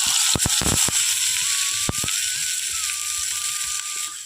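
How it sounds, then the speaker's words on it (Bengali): Garlic and onion fry in oil in a pan for a puti fish bharta, a bright, dense, close sizzle running throughout with a few sharp crackles and taps early on. "রসুনটাকে ও লাল লাল করে ভেজে নেব এই রসুনের মধ্যে এখন দিয়ে দিচ্ছি কিছুটা পেঁয়াজ"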